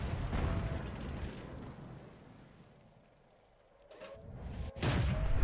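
Heavy booming blasts from a 105 LeFH18B2 self-propelled artillery gun in World of Tanks, loud rumbling shots near the start and again at the end with a quieter lull between.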